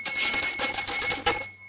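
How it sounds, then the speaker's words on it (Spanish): A hand bell of the kind rung for school recess sounds with a bright, continuous metallic ringing, loud and close, clanging in quick repeated strokes before it cuts off. "en todos los colegios suena la campana para salir al recreo"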